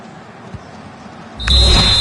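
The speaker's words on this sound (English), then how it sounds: "And there it is, the final whistle" A referee's final whistle shrills in a football video game, one loud sustained blast cutting in suddenly over a low crowd murmur.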